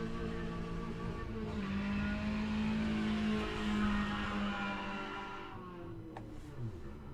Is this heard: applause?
no